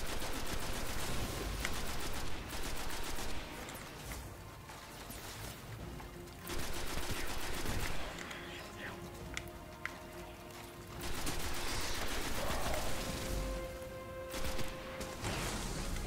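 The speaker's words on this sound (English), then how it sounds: "I notice I'm starting to run low on ammo for my machine gun as well." Machine gun fire in Destiny, loud rapid bursts of shots in several stretches separated by quieter gaps with game ambience and tonal effects, no talking.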